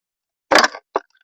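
A sugar-free hard candy being crunched while eating: one short, close, crisp crunch followed by a second smaller crack, with no voices.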